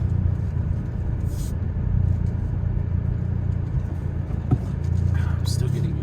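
A MazdaSpeed3 rumbles along at low speed while turning, its engine a steady close drone with brief faint knocks, and a person talks over it.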